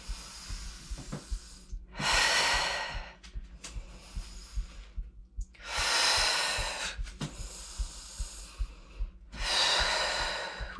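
Heavy, rhythmic breathing during a bodyweight squat workout, with long, loud hissing exhales roughly every four seconds and quieter inhales and small rustles between them, close to the mic.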